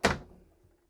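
A deep storage drawer in a new Jayco Melbourne Prestige Mercedes-Benz motorhome shuts with one solid, close thunk that fades out quickly.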